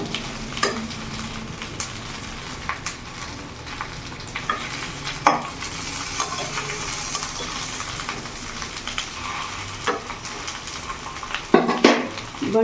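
Ilish fish paturi wrapped parcels frying in a pan with a steady sizzle, while scattered clinks and scrapes mark pieces being flipped one by one, close up with no talk.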